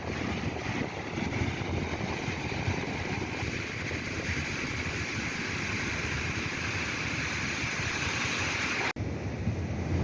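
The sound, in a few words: ocean waves at Molang Beach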